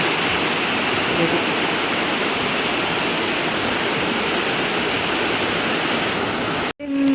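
Water of a stream rushing through a green natural area makes a loud, continuous roar close by that stays steady throughout and drops out abruptly for a moment near the end.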